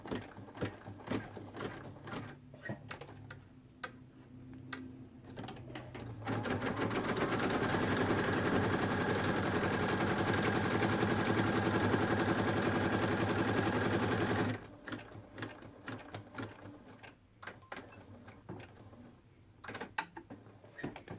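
A sewing machine stitches a seam along a zipper in fabric, running in one steady, loud whirring burst of about eight seconds, with quieter handling clicks and rustles before and after.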